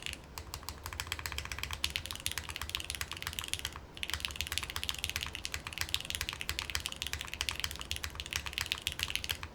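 Someone types on a Mode Encore mechanical keyboard with an aluminum plate, producing a quick, continuous stream of bright, clacky keystrokes close to the mic, with one brief pause partway through.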